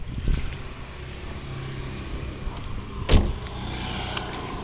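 Power window motor on a Fiat Punto Emotion whirring steadily inside the car, with a sharper thump or clunk near the end as the glass stops, no talking.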